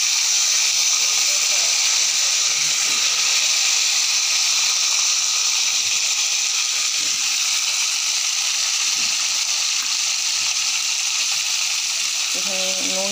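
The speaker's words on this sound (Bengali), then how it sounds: "আলুগুলো ভালো করে ভেজে নিলাম।" Potatoes with cumin fry in hot oil, giving a loud, steady, close hiss and sizzle that runs unbroken throughout, with faint stirring scrapes and no speech.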